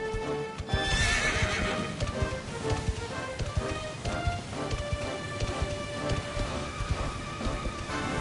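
A horse in Dragon Quest XI whinnies loudly near the start, then its hooves clip-clop in a steady rhythm over a patter of rain, with no voices.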